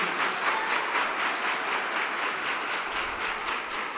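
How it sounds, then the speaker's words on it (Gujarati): A large crowd at a birthday celebration for a revered guru at a Swaminarayan pilgrimage site claps together, a dense, continuous wash of applause filling the hall, steady and fairly loud with no talk over it. "એક જ્યાં 2000 તાળીઓથી પૂજ્ય ગિરિબાપુનો આપણે જન્મોત્સવ ઉજવીએ"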